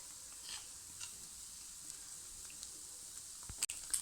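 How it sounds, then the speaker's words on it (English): Lentil-stuffed pancake cooking in oil or ghee on a pan over medium heat, giving a faint, steady sizzle with a few soft clicks and a brief sharper clatter near the end. "Then directly flip the pancake onto the pan and cook it in a medium heat."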